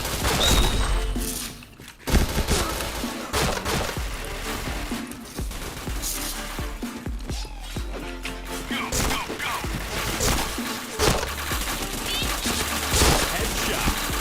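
Rapid gunfire in the online shooter Point Blank, dense bursts of automatic shots and sharp impacts nearly continuous and loud, with a brief lull early on and game announcer voice lines.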